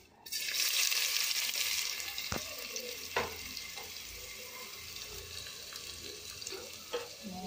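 Carrot, onion and green chilli fry in a little oil in a pan, giving a loud, continuous close sizzle with occasional clicks of stirring and no voices.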